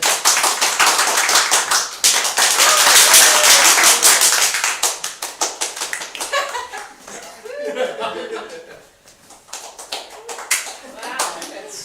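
Theatre audience at an improv Theatresports show applauds to vote for a game, a dense burst of clapping mixed with laughter that peaks early, thins into scattered claps, then swells briefly again.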